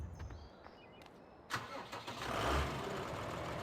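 A tractor engine starts up in Farming Simulator, a few faint clicks and cranks before the motor catches and settles into a loud, rough idle.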